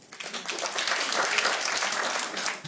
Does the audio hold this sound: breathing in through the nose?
no